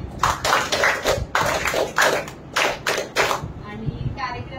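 At a gratitude gathering for Bhante Sangharakshita, a group claps together in sharp, distinct bursts with short pauses between them, then falls into a quieter murmur.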